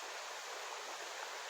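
A babbling brook beside a forest trail in the North Maine Woods, a steady, close hiss of rushing water with no voices.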